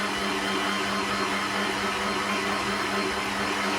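A Kenwood stand mixer whirring steadily at low speed while blending icing sugar, a constant even motor hum with no pauses and no talk over it.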